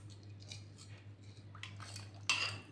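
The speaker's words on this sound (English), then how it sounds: "take your wet ingredients and mix" A utensil clinks and scrapes against a bowl while wet ingredients for fresh bread are mixed: scattered light taps, ending in a sharper, louder scrape, close by with no talking.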